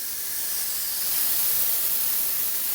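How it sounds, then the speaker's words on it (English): Steam hisses steadily from the release valve of an Instant Pot cooking lentils, a loud, continuous rushing spray close by with no voices. "Keep your fingers back or steam gonna come out of that hole."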